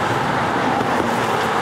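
Traffic from a Jaguar Enthusiasts Club meet at the Humber Bridge, with Jaguar cars such as an XJS convertible driving past. It is a close, steady roar of engine and road noise that stays even throughout, with no talking.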